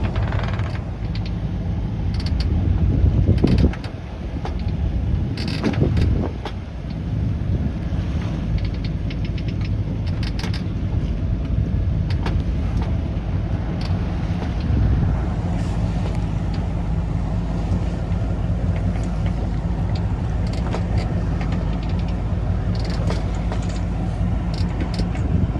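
A sailboat's engine runs steadily while motoring through a choppy channel off Royan toward Oléron, a continuous low rumble under heavy wind buffeting the microphone, with a few louder thumps of waves or gusts.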